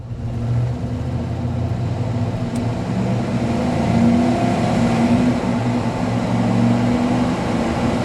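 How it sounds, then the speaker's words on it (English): A 1993 GMC Yukon GT's engine, warmed up and stock, runs steadily and revs gently under light throttle, a continuous close drone with a low hum throughout and no talk. "We're up to temperature, so let's go ahead and get in throttle a little bit."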